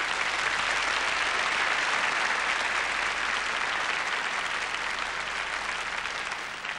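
Disco audience applauding as a performer takes the stage, dense, continuous clapping that holds steady and tapers slightly at the end.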